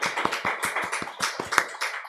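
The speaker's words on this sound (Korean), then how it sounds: "함께 환영하는 박수 하겠습니다." A church congregation claps in welcome during a Sunday service, a quick, rhythmic run of about a dozen claps from a small group, fairly close and clear, with no talking over it.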